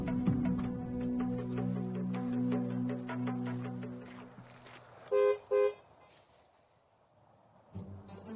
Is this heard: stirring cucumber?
no